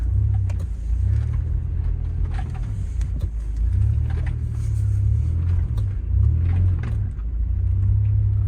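A 1999 Toyota 4Runner in two-wheel drive climbs a hill slowly. Its engine gives a steady, close low rumble that swells slightly in a few places and carries on without any voices.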